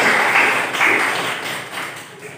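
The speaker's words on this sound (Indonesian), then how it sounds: "Tepuk tangan." Students in a classroom clap their hands together in a dense, steady burst of applause that fades gradually over a couple of seconds.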